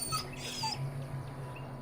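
A dog whimpers in the video game Dragon Age: Origins, giving faint, thin high whines against a low steady game ambience, with no voices heard.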